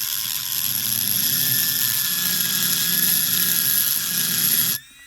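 A TaitaTools metal-cutting tool spins at about 10,000 RPM, giving a steady, loud high-pitched whine with a rumbling undertone that runs evenly, then cuts off abruptly near the end.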